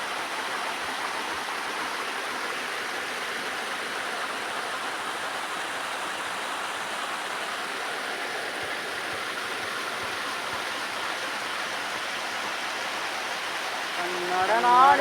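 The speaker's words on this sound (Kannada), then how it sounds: "ಈ ಜಾಗಕ್ಕೆ 2 ಕಿಲೋಮೀಟರ್ ದೂರದಿಂದ ಈ ನೀರು ಬರ್ತದೆ" A forest stream flows steadily in a continuous, even rush of water that holds a constant level throughout, with a brief louder sound near the end.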